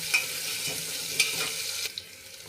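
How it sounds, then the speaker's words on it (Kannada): Onions frying in a pan until golden brown, a soft, close sizzle with a few light scrapes of stirring, quiet and with no talk. "ಈರುಳ್ಳಿ ಗೋಲ್ಡನ್ ಬ್ರೌನ್ ಬರೋವರೆಗೂ ಫ್ರೈ ಮಾಡ್ಕೋಬೇಕು."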